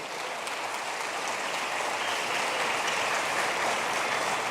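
A church congregation applauds during a sermon, steady dense clapping filling the space throughout with no talk over it.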